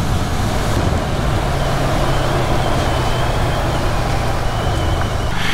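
A Moto Morini Seiemmezzo STR motorcycle, its exhaust pipe running out of the catalytic converter, drones steadily and loudly while riding, with heavy wind rush throughout and no pauses.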